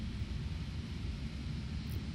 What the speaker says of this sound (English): I can't tell if we've got 2 engines going or 3.